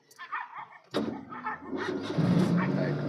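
A car engine cranks and catches on a driving-school training car, a sudden loud burst settling into a steady running rumble, following a brief stretch of quiet conversation between instructor and trainee.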